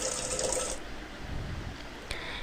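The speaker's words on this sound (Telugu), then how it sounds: "ఇది పెట్టేసి వాటర్ నింపుతా అందులో" Water runs from a tap into a container with a bright, splashing rush that stops after a moment, leaving a quieter rumble and a short clatter near the end.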